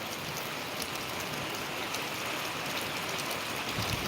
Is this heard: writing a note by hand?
no